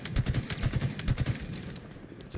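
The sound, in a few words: gunfire in Halo Infinite video game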